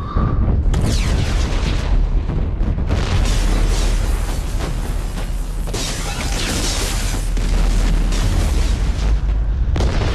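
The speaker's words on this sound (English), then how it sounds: "That was a big explosion." In the video game Mass Effect 2, a massive explosion erupts as a loud, sustained, rumbling blast. Deep booming waves and crackling bursts fill the whole stretch with no speech.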